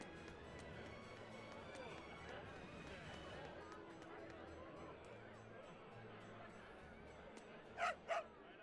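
A dog barks and yips in the video game Tales of Berseria, short repeated bursts over game music, with people talking throughout and two sharp louder sounds near the end.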